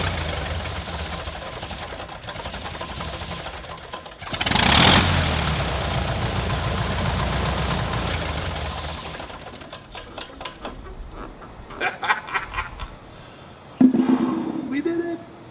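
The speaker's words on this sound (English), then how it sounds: "here's the too low idle." An aircraft engine on the Bogey idles too low after its first start with an uneven, knocking chug. A loud burst of noise follows, and then the engine sputters and winds down, with people talking over it.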